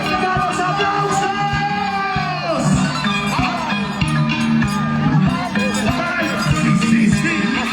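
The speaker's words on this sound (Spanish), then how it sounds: "¡oiga los aplausos!" A boisterous crowd at a Tacanakuy fighting event in Lima, Peru, claps and shouts continuously. Dense, loud noise with voices yelling over it throughout.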